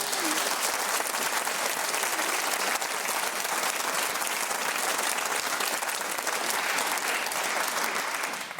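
A radio quiz studio audience gives a long, even round of applause, a dense wash of clapping that holds steady throughout and eases only slightly at the very end.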